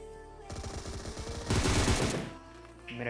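PUBG Mobile gunfire crackles in a quick burst of rapid automatic shots, swelling louder midway, then tapering off.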